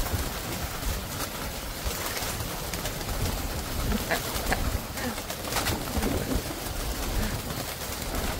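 Pigeons coo and flutter in a busy loft or birdhouse, a dense steady wash of bird noise with scattered wing flaps and rustling throughout.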